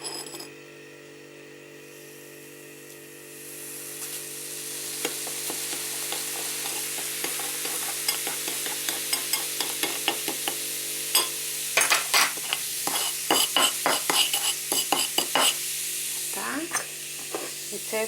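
Steady clinking and scraping of a utensil stirring apple pie batter in a bowl, quickening into rapid repeated taps over a constant background hum.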